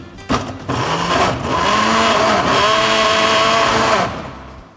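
A kitchen blender whirs loudly and close as it blends shallots and garlic, starting with a sharp jolt, then a steady high motor whine that shifts slightly in pitch before winding down.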